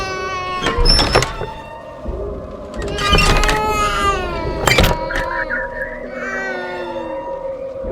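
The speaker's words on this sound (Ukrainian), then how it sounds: "Звук дитини." A baby crying in a Minecraft horror map, several loud wailing bursts with breaks between them, standing out over a quieter game background.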